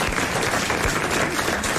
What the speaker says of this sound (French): Et vous allez l'applaudir immédiatement.